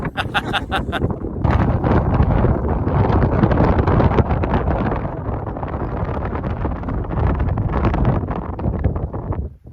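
Strong, gusting evening wind roars across the microphone almost continuously, buffeting loudly with no clear voices, on a hiking trail.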